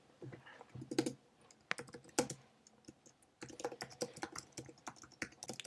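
Swift code being typed on a computer keyboard: quiet, irregular bursts of key clicks with a brief pause midway, then steady typing resumes, no voices.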